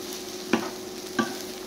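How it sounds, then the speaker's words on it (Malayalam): Okra being stirred in a pan over a low flame, two short scraping strokes about half a second apart over a gentle, steady sizzle. "ചെറിയ തീയിലാക്കിയിട്ട് ഇളക്കി ഇളക്കി ഇളക്കി കൊടുത്തോണ്ടിരിക്കാം"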